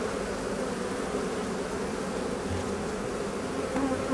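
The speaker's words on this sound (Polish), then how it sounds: "Pszczoły jest dużo, raczej." Honey bees hum around their hive in a dense, continuous buzz, many insects droning together close by with no voices.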